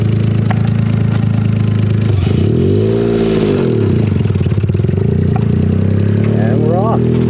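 A car with a new transmission and rear end runs on a shakedown drive, its engine droning close and loud, then revving up and easing back down mid-clip, with clattering from the cabin.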